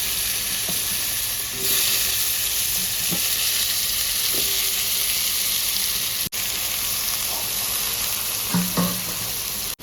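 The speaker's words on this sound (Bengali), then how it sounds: "এবার আলুটা ভেজে নেব" Potatoes frying in a pan crackle in a dense, even sizzle throughout, with a few clinks of utensil contact near the end and no voices.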